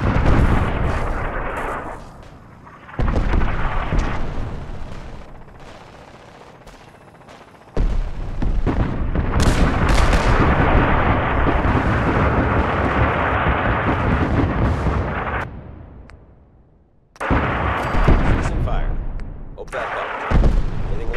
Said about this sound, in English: Preparing to fire for effect. Support fire incoming.